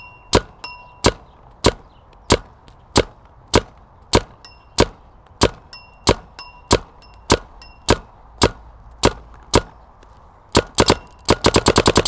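Paintball marker firing paintballs outdoors on a slightly breezy day, including broken paint: sharp, evenly spaced single shots at a steady pace, ending in a fast closing burst of rapid fire.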